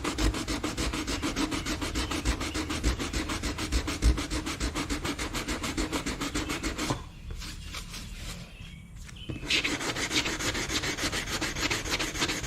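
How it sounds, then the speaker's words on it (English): Body filler on a broken car bumper being sanded smooth before primer, a close, steady raspy rubbing in fast regular strokes that pauses briefly midway and then resumes, with no talking. "Now we're going to sand it down nice and smooth so we can get it ready for primer."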